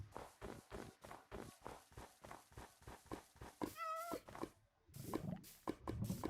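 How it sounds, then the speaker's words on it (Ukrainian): A cat in a video game meows, with a run of quick, regular footsteps before it and a clear wavering meow partway through, then more steps and scuffling. "Кіт!"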